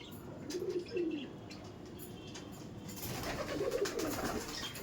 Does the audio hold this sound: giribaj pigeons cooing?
yes